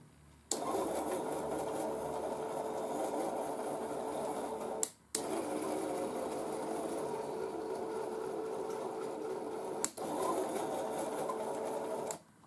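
An electric motor drives a Lionel gantry crane along track rails, giving a steady close whirring hum in long runs, briefly cut off twice with clicks before resuming, then stopping.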